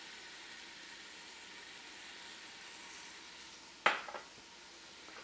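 Garlic and seasonings sauté in oil in a pot for a smoked turkey gumbo-laya, giving a steady, soft sizzle throughout, with one brief utensil clatter against the pot near the end.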